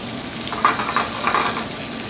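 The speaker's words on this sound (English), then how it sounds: "So we get our shrimp in there, a little bit more salt, and we let them cook on one side." Shrimp fry in a hot pan with a steady close sizzle and crackle, with a few brighter pops, no talking.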